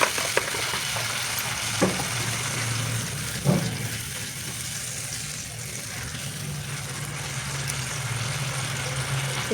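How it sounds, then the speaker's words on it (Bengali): Water added to oil-fried spice paste for chitol fish curry, a loud dense hiss and bubbling that settles into a steady rolling sizzle, with a couple of faint knocks. "মশলাটা কষানো হয়ে গেছে, দিয়ে দিচ্ছি পরিমাণ মতন জল।"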